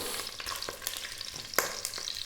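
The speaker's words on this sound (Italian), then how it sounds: "incominciamo a far, diciamo, rosolare questa carne" Chunks of meat brown in clarified butter in a pan with a soft, steady sizzle, broken by crackles and pops as pieces are stirred, close and quiet, with no voices.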